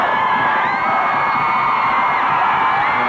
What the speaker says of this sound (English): And the crowd is really getting into it for the Spartans.